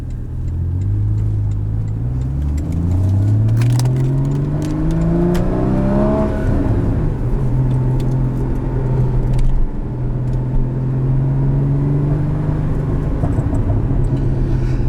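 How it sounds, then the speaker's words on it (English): A 2016 Porsche Boxster Spyder accelerates hard, engine pitch climbing through gears with loud exhaust crackles and pops, close and continuous. "Yeah, it's got crackles, and they are loud as can be."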